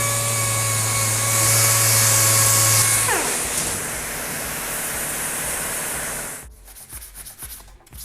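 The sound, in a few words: sanding motorcycle body parts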